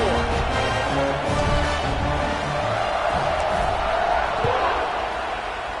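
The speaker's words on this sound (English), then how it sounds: "this crowd is buzzing after that last score" Football stadium crowd buzzing after a score, a dense sustained roar of many voices and cheers filling the background at steady volume with no clear single voice.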